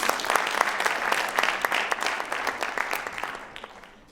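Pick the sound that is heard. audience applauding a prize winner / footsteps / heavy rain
audience applauding a prize winner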